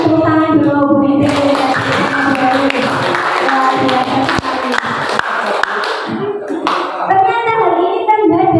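A group in a school training session claps together, a bright burst of many hands over several seconds, with voices talking and someone speaking before and after.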